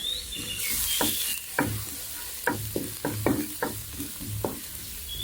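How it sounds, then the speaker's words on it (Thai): Crushed, chopped garlic stir-frying in hot rice bran oil for a chicken breast garlic stir-fry: a steady bright sizzle with repeated spatula scrapes and knocks against the pan, close and fairly loud, no talking. "พอน้ำมันร้อนแล้วนะคะเดี๋ยวเนี่ยจะเกลี่ยเอาเฉพาะกระเทียมลงไปผัดก่อนนะคะ"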